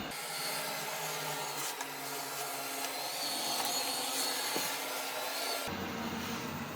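A Eufy 30C robot vacuum cleaner running after a repair, giving a steady whirring suction hum with faint scraping and rubbing as it moves, which then cuts to a quieter tone near the end.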